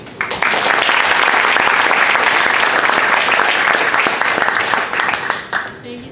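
A lecture audience at a science and democracy talk breaks into sustained, dense applause welcoming the speaker Katie, the loud clapping holding steady for several seconds before tapering off.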